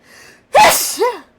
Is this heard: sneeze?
yes